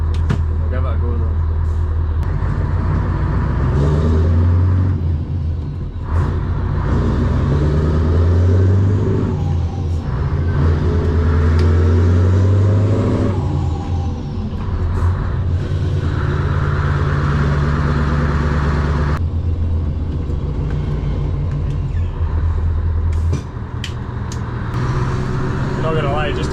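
A Scania Longline truck's engine drones loud and close through an open cab window while driving, with deep low rumbling that rises and falls through gear changes.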